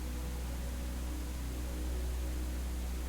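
Pink noise, a blend of white and brown noise: a steady, unvarying hiss with a deep, soft rumbling bottom, quiet and continuous from start to finish.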